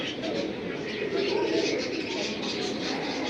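Pigeons in a fancier's collection coo softly, a faint continuous murmur of calls beneath nearby people talking.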